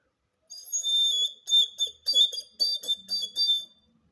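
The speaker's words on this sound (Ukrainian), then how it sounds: "Ось погляньте, який в мене є свіщик, виготовлений з глини." A shrill Ukrainian folk clay toy whistle blown in a series of short warbling bursts, bright and close, with no talking.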